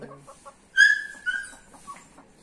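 Asil Indian chickens, a rooster and his hens, give a few soft clucks followed by a louder drawn-out call and fainter trailing clucks, close by and without talk.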